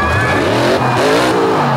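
A Ford monster truck tipping over at a monster truck show, its engine roaring and revving loudly up close with tire squeal and shifting pitch as the truck goes over, no voices over it.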